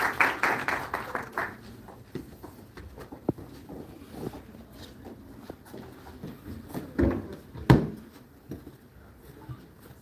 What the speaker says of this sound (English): Let's welcome Amit Gupta, sir, with a round of applause.